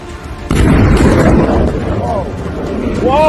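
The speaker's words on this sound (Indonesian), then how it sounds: "Sekarang lihatlah rudal yang menghantam target." An Iranian missile strikes a target in Israel, producing a sudden heavy blast followed by a long rumbling roar, with excited voices shouting near the end.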